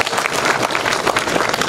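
An audience claps at the opening of a village cultural hall in Pâncești. The applause is dense and steady from a crowd throughout, loud and close, with a faint voice mixed in.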